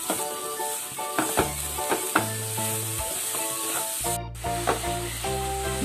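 Grated coconut and sugar are stirred in a pan for carrot ladoo, giving a bright continuous sizzle with repeated spoon scrapes and taps while soft music plays underneath.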